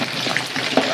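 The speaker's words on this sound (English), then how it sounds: "And continue to stir so that the gravy don't get clumpy and curdle." A spoon works through Garifuna hudut gravy in a pot, with a soft bubbling sizzle and faint scraping across one brief, steady moment.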